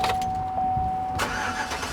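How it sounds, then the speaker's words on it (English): A Chevy Yukon engine with a misfire cranks and catches to a rough idle, close by, with a steady whine under the start-up noise. "let's go ahead and get this thing started up so you can hear this misfire"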